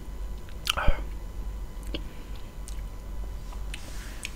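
Someone takes a soft bite of takoyaki, then chews with quiet, squishy mouth sounds spread over several seconds, close to the mic against a low room hum.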